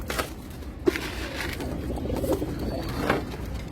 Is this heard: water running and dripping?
no